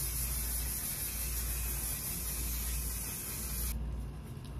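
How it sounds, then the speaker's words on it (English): Makeup setting spray misted in one long, steady hiss close to the microphone, cutting off sharply near the end. "This setting spray is amazing."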